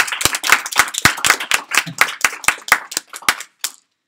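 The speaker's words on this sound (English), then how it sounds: "big have a great applause" About a dozen sharp, evenly spaced claps ring out loud and close, a single person clapping in a steady rhythm for over three seconds, ending in one last clap with no talk over them.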